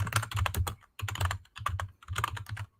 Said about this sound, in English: I'm just going to let you finish typing.